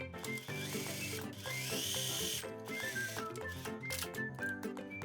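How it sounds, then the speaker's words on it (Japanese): A sewing machine runs a long one-centimetre seam on a loose, collarless garment, from sleeve cuff through the underarm down to the hem, its needle chattering in a fast steady rhythm close by with small shifts in pace and no talking. "そしたら袖口から袖下脇を通って裾の部分まで縫い代1センチでダーッと一気に縫います。"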